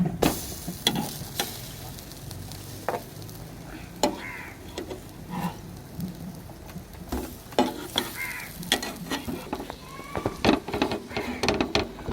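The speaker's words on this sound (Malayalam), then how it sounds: "ഇങ്ങനെ പാനിൽ നെയ്യ് തടവിയിട്ട് അങ്ങനെ ഫ്രൈ ചെയ്തെടുത്തിക്കേനു" Bread fries in ghee in a pan with a steady low sizzle, while a spatula scrapes and taps in irregular clicks, close by, as someone talks intermittently.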